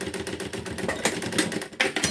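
A sewing machine runs a finishing seam with backstitch on a half-moon fabric toiletry bag, making a quick, steady mechanical clatter with slight surges in pace, close and alone.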